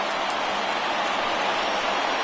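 Rain falls steadily at a baseball game as an even, broad hiss that stays constant and fairly loud throughout, with no voices.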